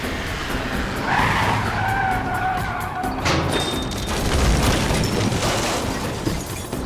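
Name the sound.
vehicle wheels losing traction hauling a house up a steep hill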